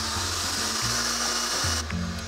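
Electric mixer whipping an egg and sugar mixture for a pistachio cake, a steady loud motor whir with slight changes in pitch as the beaters work, running alone and close.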